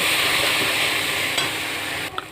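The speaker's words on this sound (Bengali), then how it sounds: "পরিমাণ মতো নুন আর পরিমাণ মতো হলুদ গুঁড়ো দিয়ে এটাকে ভালো করে কষতে থাকবো বেশ তেল বেরিয়ে না আসা পর্যন্ত" Spice masala with salt and turmeric being stir-fried in oil, a dense, loud sizzle holding steady with a brief knock of the spatula near the end, no voices.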